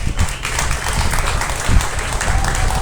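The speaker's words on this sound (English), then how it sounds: "Give this young man a nice round of applause." Audience applause at a 2023 beef cattle show after a young exhibitor's heifer is judged: a steady, dense patter of many hands clapping, fairly loud and continuous throughout, with no voices over it.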